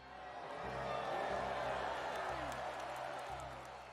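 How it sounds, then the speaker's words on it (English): A crowd cheers in The Life and Suffering of Sir Brante, a video game, as a broad, steady wash of distant roaring voices with a low rumble underneath, swelling slightly through the middle. "The cheering of the crowds drowns out Jen's words."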